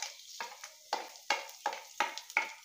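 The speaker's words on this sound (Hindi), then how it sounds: "तो अब इसमें डाल देंगे हम जीरा। अब जीरे को थोड़ा चटकने देंगे" Cumin seeds crackle in hot oil for Indian bharwa karela, with sharp popping bursts repeating roughly every half second, close and clear, with no talking.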